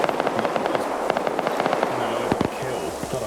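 A PKT machine gun fires at infantry in a multiplayer video game match. Rapid, steady clatter of shots continues throughout, moderately loud, with a few heavier impacts near the end and voices talking faintly underneath.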